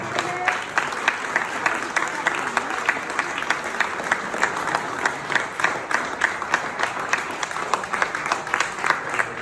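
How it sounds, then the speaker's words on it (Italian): Sustained, dense audience applause at a Venetian fire brigade charity gala, steady crowd clapping filling the room for the whole stretch with no pauses. "Ancora un applauso, bravissimo"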